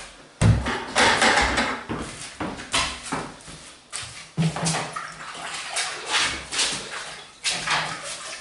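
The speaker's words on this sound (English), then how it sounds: "now I'm going to give it a rinse off" Water splashed repeatedly onto chemically cleaned brickwork, rhythmic close sloshing rinses with soft knocks between pours.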